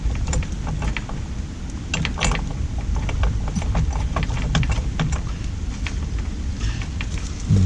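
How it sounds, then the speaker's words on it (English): A flaring tool clamped on copper refrigerant pipe for a GREE three-zone mini split install gives steady mechanical creaks and ratcheting clicks, close and continuous throughout, with no talk. "And put the flaring tool on."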